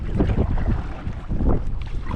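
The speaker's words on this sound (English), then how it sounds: "Rowing back to the boat." Oars splash and knock as a small dinghy is rowed through harbour water in Cadiz, with rhythmic strokes under steady wind noise buffeting the microphone.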